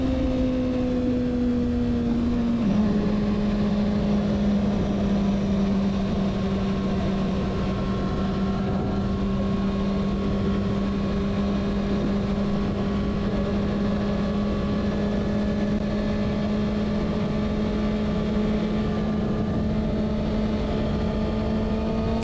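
A motorcycle, said to make about as much horsepower as a car, cruises steadily along a highway, its engine holding a loud, constant drone with a gear-change dip near the start, then a sustained even tone under rushing wind.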